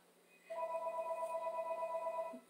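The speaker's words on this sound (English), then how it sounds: "the phone rings every time you want to go live" A telephone rings indoors with a steady electronic tone that starts abruptly and holds evenly for about two seconds, fairly quiet and alone.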